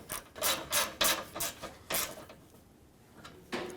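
A bolt being snugged up on the AC line of a 1996-2002 Toyota 4Runner makes a series of short rasping ratchet-like bursts in an uneven rhythm, close by, with a brief pause before one last stroke.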